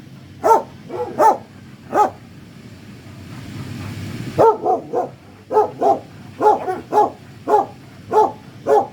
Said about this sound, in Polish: Tutaj jest kolejny piesek. Ten tak się domaga